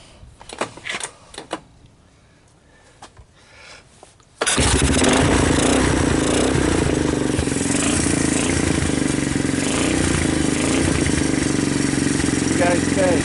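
A Honda ATC200X three-wheeler with custom air cleaner and custom exhaust, fed starting fluid, cold-starts after a few quiet knocks and then roars into a loud, steady, close engine run.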